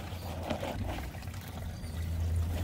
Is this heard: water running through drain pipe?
yes